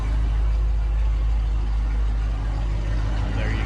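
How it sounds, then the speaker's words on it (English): A Dodge Challenger Scat Pack idles steadily outdoors, its exhaust giving a continuous deep, loud rumble throughout with no change in pitch. "let's go ahead and go outside so you guys can hear the exhaust a little bit better"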